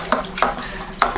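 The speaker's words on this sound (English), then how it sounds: "So anyway, I'm going to stir this" A spoon stirring a Merlot wine kit must in a fermenting bucket while bentonite is added, giving steady swishing with three periodic scraping strokes against the container, close and fairly loud.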